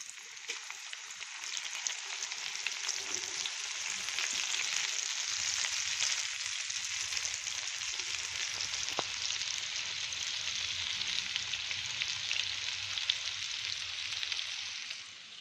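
A batch of cucumber dish pieces deep-frying in hot oil, a steady dense sizzle and bubbling that holds at constant loudness throughout without talk.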